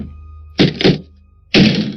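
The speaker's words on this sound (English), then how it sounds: "There was a bang at the front door." Heavy thuds pound on a front door at night, two quick bangs followed by a pause and then another loud bang, close and forceful.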